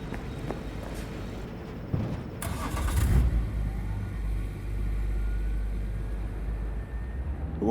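A car in Cyberpunk 2077 pulls away with a low engine rumble that swells into a steady drive, heard alone and fairly close.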